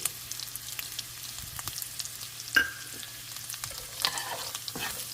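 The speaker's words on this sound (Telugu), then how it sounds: "హై ఫ్లేమ్ పైన బీన్స్ని ఒక టూ మినిట్స్ ఫ్రై చేస్తే చక్కగా ఉడికిపోతాయి" Green beans with chilies fry in a pan over high flame, giving a steady close sizzle broken by occasional spatters and stirring clinks, with no one talking.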